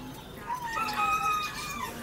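A fighting rooster at a pet market in Bangkok lets out a drawn-out crow near the microphone, with a few clucks around it and soft market murmur in the background.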